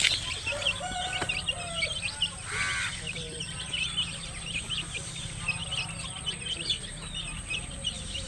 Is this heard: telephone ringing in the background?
no